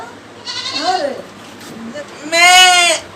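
A goat bleats twice in a comedy sketch, wavering cries with a quieter first call and a louder, longer second one close by, with a faint voice between them.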